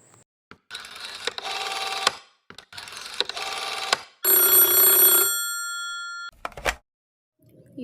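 An old-fashioned telephone bell rings in bursts within a radio drama, repeated rings followed by a longer sustained ring, then a clunk and silence.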